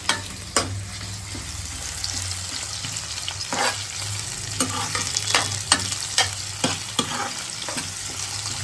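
Egg masala fries until browned in a pan, a steady hiss under repeated sharp scraping and tapping stirs that come more often toward the end, close and fairly loud, with no talking.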